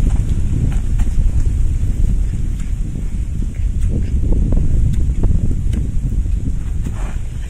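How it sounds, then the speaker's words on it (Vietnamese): Strong wind blows through a storm, a loud, continuous roar of low rumbling gusts buffeting the microphone up close, with no pause over the whole stretch. "Quá gió ơi."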